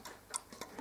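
A German dual-chime mantel clock ticks softly and steadily, close by and quiet, with a faint mechanical rhythm and no voices.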